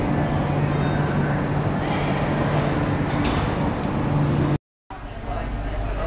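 Inside the snack bar lounge car of the Spirit of the Outback train, a constant loud rumble and roar of the moving train fills the space, with a brief dropout to silence near the end.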